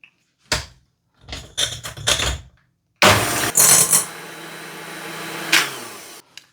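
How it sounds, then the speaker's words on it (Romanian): An electric mixer beats egg whites and sugar into stiff meringue, starting with a few short stuttering bursts, then running as a loud, continuous whir for about three seconds before stopping. "Pun tot zahărul peste albușuri și voi bate foarte bine, bezea tare aceste albușuri."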